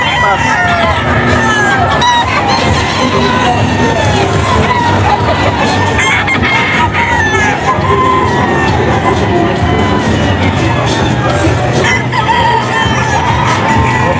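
A Boston White gamefowl rooster crows loudly at a breeders' booth at a gamefowl expo, other birds clucking amid constant crowd chatter and babble.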